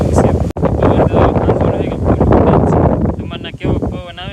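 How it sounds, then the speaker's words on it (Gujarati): Strong wind blowing across the microphone outdoors, a loud rough buffeting roar that persists under a person talking throughout. "અહીં તો જો અમારે કે ફૂલ પવન ચાલુ જ છે"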